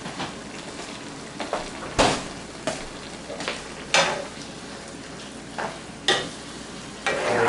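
Garlic is stirred into Mexican-style meat frying in a pan: a steady close sizzle with several sharp scraping stir strokes at irregular moments, no voices.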